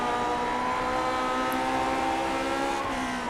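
A simulated Lotus 49 Grand Prix car engine in the iRacing game at Suzuka holds a steady, high-pitched whine in fourth gear under feathered throttle, a sustained buzzing drone with no talk.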